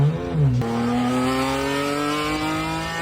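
A sports car engine revving hard toward 9,500 RPM, a loud, close, sustained high-pitched wail that climbs after a brief dip and holds near the top.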